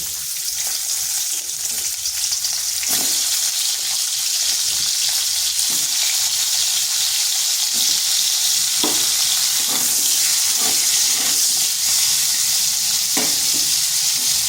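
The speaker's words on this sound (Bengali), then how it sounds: "আলুগুলোকে একটু লাল লাল করে ভেজে নেব" Potatoes fry in a little oil in a wok with a loud, steady crackling sizzle. Stirring adds scattered scrapes and knocks throughout, close up and with no talk.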